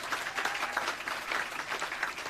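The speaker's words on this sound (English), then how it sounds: "So can we please give them a round of applause?" An audience at a contact centre launch event gives a round of applause, a dense, steady wash of many hands clapping, distant and fairly soft.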